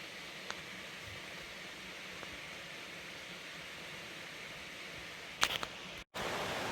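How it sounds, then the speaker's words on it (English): A rushing river beside a campsite makes a constant, even hiss like static, soft and unbroken, with a brief knock and a short louder burst near the end. "that loud static in the background in almost all of my videos that come from, well, most camps and most places? It's really just the rivers."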